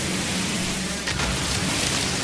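Rain in the No Man's Sky video game falls as a steady, even hiss of noise, loud and unbroken, with no talk.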